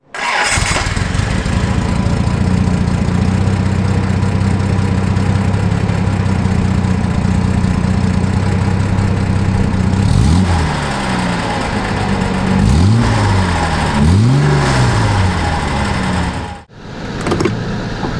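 A classic older car with no power steering idles loudly and steadily, then revs several times in rising and falling sweeps before cutting off abruptly near the end, with no talking.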